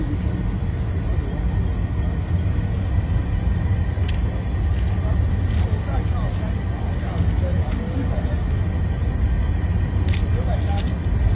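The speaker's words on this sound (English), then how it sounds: "The orange wagon signifies the last train, the last wagon on the train." A container train on its first run to the Ibadan Dry Port rolls steadily past nearby with a continuous low rumble and occasional clanks while someone talks over it.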